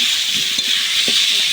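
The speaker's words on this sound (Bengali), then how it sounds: "আলুটা ভালো করে ভেজে নেব।" Potatoes frying in a pan for khichuri, a steady bright sizzle throughout with faint clinks of a utensil stirring underneath, close and continuous.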